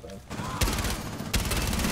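Gunfire through a wall in Rainbow Six Siege, two dense bursts of rapid automatic shots, loud and close, each starting sharply and running on without a break.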